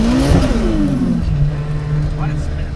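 A 600HP Nissan S15 with a VVL SR22 engine pulls away in first gear, its tone climbing as revs rise then settling into a steady drone inside the cabin, with people talking over it.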